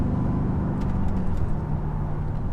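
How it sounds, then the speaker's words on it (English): Inside the cabin of an HSV LSA R8 Maloo ute with a supercharged LSA V8 and Di Filippo (DPE) cat-back exhaust, a steady, even low rumble and drone under light acceleration continues with no talk. "This is the sort of in-cabin noise that you get under light acceleration."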